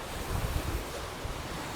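Ocean waves wash in a soft, steady surge below a seaside terrace in the Maldives, faint and continuous, with wind buffeting the microphone.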